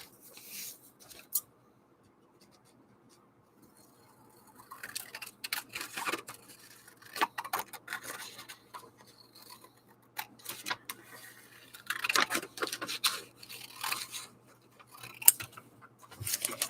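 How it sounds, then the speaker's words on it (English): Scissors cutting through folded, double-layered paper, a series of crisp snips and rustles in irregular bursts, close and fairly quiet, with a near-silent pause before the cutting resumes. "you cut through both pieces of paper at once"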